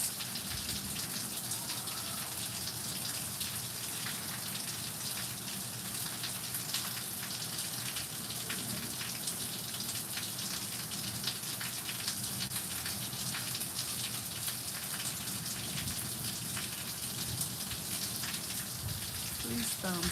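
Steady rain falls and patters on surfaces in a dense, continuous hiss that stays even and close throughout, with scattered heavier drops.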